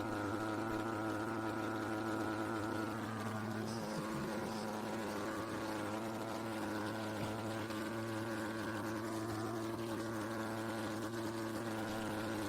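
A small motor vehicle's engine running, a steady buzzing drone held throughout with a slight shift in pitch partway, close and unbroken, with no talking.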